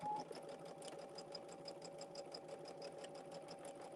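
A home sewing machine runs steadily, stitching quilt-block fabric with a fast, even mechanical whir and rapid needle ticking, close and continuous without talk.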